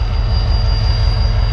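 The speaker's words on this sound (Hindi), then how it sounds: "15 कराची एक्सप्रेस के ओवरटेक के 2 से 3 मिनट बाद ही भाई रवानगी का परवाना मिल चुका है 79 मिल्लत एक्सप्रेस को।" A Pakistani passenger train, the Millat Express, departs near Lahore with a loud, close, continuous rumble of wheels and carriages and a thin high whine above it.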